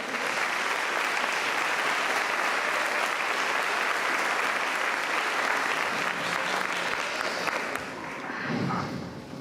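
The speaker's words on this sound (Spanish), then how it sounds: "Si vas a darle un aplauso, apláudele." A church congregation breaks into sustained, loud applause, dense clapping that fills several seconds before tapering off.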